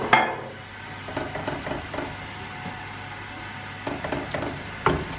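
Carrots layered into a hot pan over fried meat and onions for Turkish-style pilaf give a quiet, steady sizzle, with scattered clinks and scraping of utensils against the pan.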